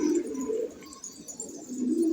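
Pigeons cooing in a loft of about seventy male birds, low soft coos rising and falling in a steady murmur close by, with no talk over them.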